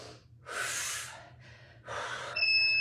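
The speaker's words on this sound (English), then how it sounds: "Make sure you're not holding your breath. Exhale." Heavy, forceful exhales and gasping breaths during a full body workout, with two long breathy rushes of air close to the microphone separated by a brief pause.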